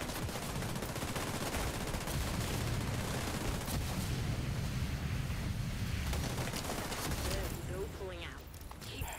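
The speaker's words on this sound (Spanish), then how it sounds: "le estoy pegando todos los tiros" Dense, continuous bursts of gunfire and explosions in the video game Tom Clancy's The Division 2 rattle nonstop for several seconds, loud and busy, thinning out slightly near the end.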